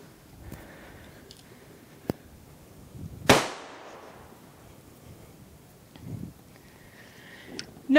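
A single loud firecracker bang from a full load, set off near a horse during desensitizing training for fireworks. A sharp crack sounds alone, with a few faint softer pops and thuds around it.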